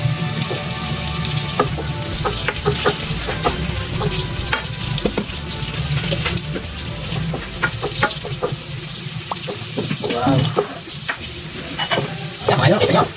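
Ligo canned sardines sautéing with onion and garlic in a pan, a loud continuous sizzle broken by repeated scraping and stirring strokes of a utensil, close up and without talk.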